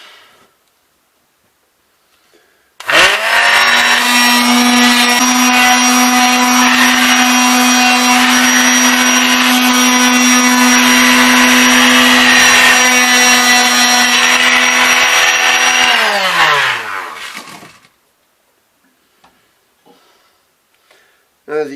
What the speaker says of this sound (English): I'm still gonna hit it with the belts or the orbital sander